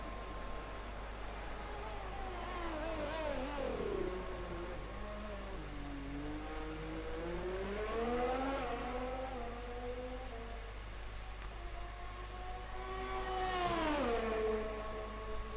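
A race car engine rises and falls through gear changes as it laps a circuit in a racing video game, a steady moderate whine that climbs and drops several times on its own.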